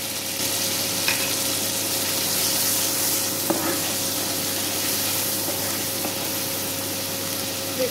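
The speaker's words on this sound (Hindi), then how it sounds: "इसको थोड़ा भून लेंगे। फिर इसके बाद हमने जो ये लाल मिर्ची और हल्दी पाउडर रखा था वो डाल देंगे।" Tomato chutney frying in a pan with red chili and turmeric powder, a steady close sizzle that runs throughout with a few faint clinks, no voices.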